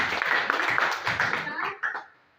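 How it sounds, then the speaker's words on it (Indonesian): A classroom group claps for a student during a lesson, dense clapping for about two seconds that tapers off with a few last claps and fades out. "tepuk tangan untuk Tina"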